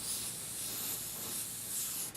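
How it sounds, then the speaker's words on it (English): Spray paint sprays from a can in a steady close hiss that runs continuously with slight swells in level and cuts off abruptly at the end. "Let's back this up so I'm not spraying paint everywhere"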